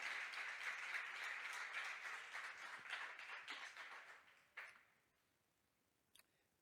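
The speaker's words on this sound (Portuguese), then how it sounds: "Você pode aplaudir ao Senhor?" A church congregation applauds the Lord during a sermon, with sustained, moderately distant clapping that thins into scattered claps and dies away, leaving quiet room tone and a brief late knock.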